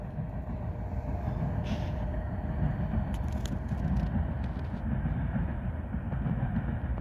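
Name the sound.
freight train passing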